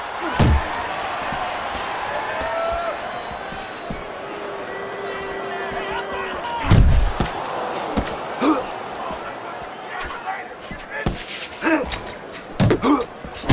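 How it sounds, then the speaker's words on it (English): Punches land in the Floyd Mayweather vs Logan Paul boxing match, including a right hand to the head: a few sharp, heavy thuds spaced far apart over a steady arena crowd murmur. "Good shot to the head with that right hand"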